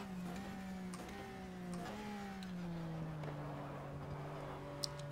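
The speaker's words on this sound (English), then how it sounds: "But this car, it sounds pretty darn good for a 2004 title." Race car engine in the 2004 sim racing game GTR 2, a steady droning tone that rises and falls with several gear-like pitch shifts over a few seconds, close and even in level with no talk.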